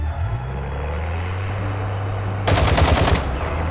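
Automatic weapon fire in the game DMZ: a short, loud burst of rapid shots near the end, over a steady low vehicle drone.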